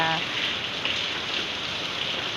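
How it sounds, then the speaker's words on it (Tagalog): Steady rain falling outdoors, a dense even hiss of drops on surfaces that stays constant and fairly loud throughout, with no talking. "humina-hina ng konti ang ating ulan ngayon"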